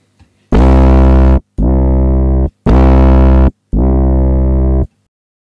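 A synthesizer tone shaped by an amp presence control combining EQ, saturation and amplitude: four loud sustained notes in a row, alternating between a bright, harsh, distorted version and a duller, pulled-back one, with short gaps between them.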